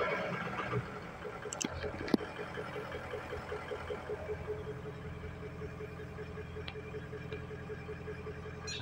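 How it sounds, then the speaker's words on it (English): A Ford Powerstroke diesel engine idles steadily outdoors at moderate distance, a continuous low rumble with faint ticking, alone without talk and a couple of brief sharp clicks. "Right now it's running great, or idling just fine."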